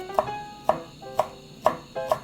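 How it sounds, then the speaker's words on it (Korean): A knife chops through green onion onto a cutting board, five crisp evenly spaced knocks close up with no talking. "물이 끓는 동안에 들어갈 대파를 썰어 보겠습니다"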